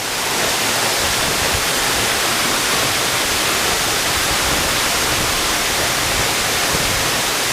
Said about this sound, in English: And this is one of the main waterfalls. And I'm pretty much just right behind it.